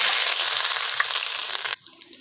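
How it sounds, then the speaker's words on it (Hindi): Garlic ginger paste frying in hot ghee, a steady, loud, close sizzle that cuts off sharply near the end and leaves faint crackles. "अब घी हमारा गर्म हो चुका है। अब इसके अंदर हम डाल देंगे लहसुन अदरक का पेस्ट 1 चम्मच। अब इसको हल्का सा फ्राई करेंगे।"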